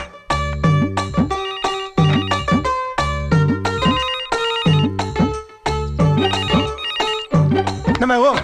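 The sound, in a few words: phone ringing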